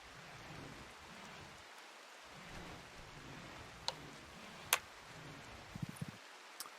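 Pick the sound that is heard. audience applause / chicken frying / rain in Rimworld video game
rain in Rimworld video game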